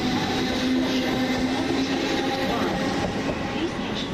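A British Rail Class 455 electric train at East Croydon station, running as a steady, rumbling roar with a low hum and faint wheel noise throughout, moderately loud and close, with a voice faintly present underneath.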